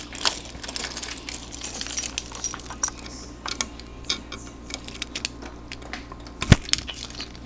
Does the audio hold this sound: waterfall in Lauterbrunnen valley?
no